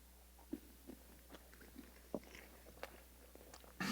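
Someone chews a chicken nugget loaded with sauce, giving soft, irregular bites and mouth noises close to the mic. A louder rustle comes at the end, and nobody speaks.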